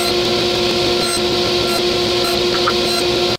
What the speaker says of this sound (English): there we have our first cut defining the shoulder of the tenon